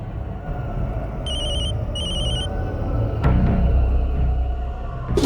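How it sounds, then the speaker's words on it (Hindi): A telephone rings in two short bursts of a bright electronic trill over street and traffic hum, followed by a thud and a low rumble. "कब से तेरा फोन बज रहा है?"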